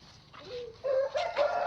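Chickens on a poultry farm raised for fighting, with a rooster's rising crow-like call and clucking close by, several short bursts over a quiet farmyard background.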